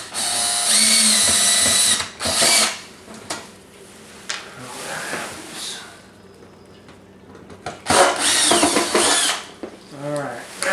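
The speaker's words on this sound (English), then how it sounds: "I'll use my cordless screwdriver and take those out real quick." A cordless screwdriver backs Phillips head screws out of a plate on a GE dishwasher in several short whirring bursts, with light metallic clicks and handling clatter in between.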